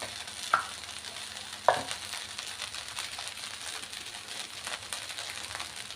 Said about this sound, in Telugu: అన్నం అంతా కూడా బాగా ఫ్రై అయ్యేలాగా ఇలా కలుపుకుంటూ ఉండాలి.